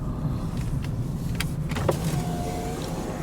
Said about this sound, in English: when this car passes me